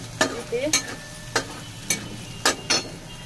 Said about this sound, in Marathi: मिरची आपल्याला छान अशी परतून घ्यायची आहे 1 मिनिटभर